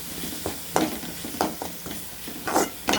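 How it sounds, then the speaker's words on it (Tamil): Onions sauté in a pan with browned ginger and garlic for a paneer gravy: a constant close sizzle broken by rhythmic spoon scrapes and stirring strokes, with no voices. "அதனால் அடுத்து வெங்காயம் போட்டுருக்கோம். வெங்காயம் நல்லா வதங்கிடும்."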